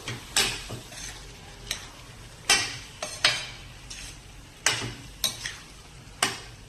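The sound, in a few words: drained pigeon peas being stirred into oily gravy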